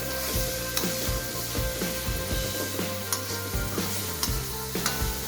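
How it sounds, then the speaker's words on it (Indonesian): Ground chili and spice paste for sweet-spicy grilled chicken sautéing in a pan, a steady close sizzle with repeated rhythmic stirring scrapes, no talk. "setelah bumbunya semua halus, selanjutnya kita tumis bumbunya tersebut"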